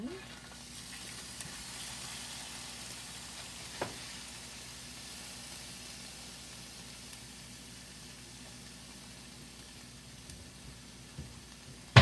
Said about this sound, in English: We're just going to kind of scramble fry the beef until it's cooked through.